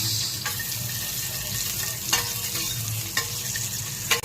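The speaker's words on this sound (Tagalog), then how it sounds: "Lagyan tayo ng konting mantika. Isahin natin yung sibuyas." Onion sautéing in a little oil in a pan for a chicken soup dish, a steady hiss and sizzle with occasional stirring scrapes, close and fairly loud, no talking.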